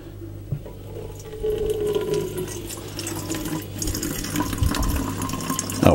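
Cold water pours steadily into a brew barrel, a continuous gushing fill that grows slightly louder as it runs, with no voices over it.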